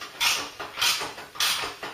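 Three rhythmic bursts of creaking, ratcheting metal come from hand-winding the threaded bolt of a spring compressor on a Mk3 Ford Cortina being restored. Each turn is close and fairly quiet.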